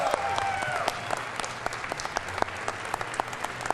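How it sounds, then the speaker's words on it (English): A crowd applauds a race winner at a Toyota Gran Turismo GR Supra GT Cup exhibition, a dense wash of clapping with scattered sharper claps, sustained throughout and moderately loud. "a big round of applause again for our winner."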